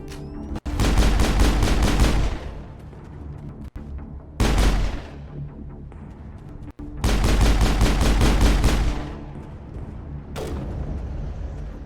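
Sniper rifle fire in Mass Effect, with loud bursts of rapid gunfire in several long volleys separated by short pauses, close and dominant.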